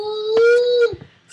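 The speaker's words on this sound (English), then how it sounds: "Sorry about that noise in the background, you guys. That's my little brother and my dog, Cody." A dog whimpers in a long, high, drawn-out whine that bends downward before breaking off, with a few faint yips after it. It is fairly loud in the background of a home, with no talking.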